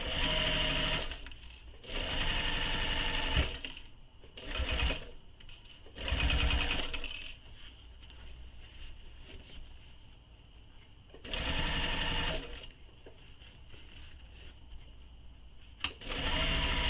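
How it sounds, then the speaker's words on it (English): A sewing machine stitches a handbag seam in repeated bursts of steady, whirring stitching. Short pauses and soft handling sounds separate the runs, and the motor's buzz is close and clear. "Now I'm going to stitch that as well with the seam allowance given in the pattern."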